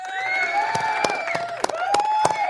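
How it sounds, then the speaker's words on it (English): A crowd cheers and whoops with scattered claps, drawn-out excited shouts rising and falling over a lively, noisy background, loud and close. "Round of applause to Donald Trump."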